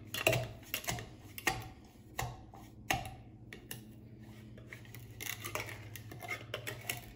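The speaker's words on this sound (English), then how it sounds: "you mash with your whatever masher or whatever you want" Oranges and sugar are mashed in a bowl with a kitchen masher for a homemade orange soda, giving repeated sharp knocks and squelchy thuds at an uneven rhythm, close and fairly loud.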